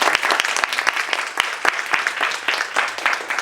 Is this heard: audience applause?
yes